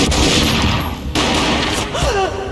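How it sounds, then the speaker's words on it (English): A single gunshot booms in a Max Payne comic narration scene, a loud sharp burst at the start that decays over about a second, then a second hit follows over a dense, noisy dramatic backdrop. "A gunshot boomed and she fell down in slow motion."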